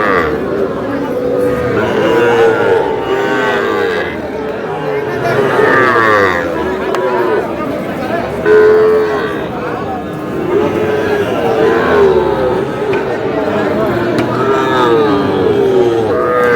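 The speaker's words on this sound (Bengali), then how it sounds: "ষাঁড় বাচ্চা" Young bull calves moo repeatedly at a busy rural cattle market, their calls rising over steady crowd chatter and bargaining voices close by.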